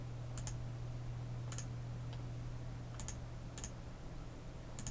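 Computer mouse clicks while editing in Photoshop CS6, several faint, crisp clicks at irregular intervals, some in quick pairs, over a steady low electrical hum.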